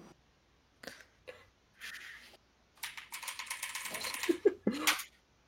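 Computer keys clatter in scattered bursts of quick taps, quiet and close, with pauses between flurries and a denser run of keystrokes toward the end.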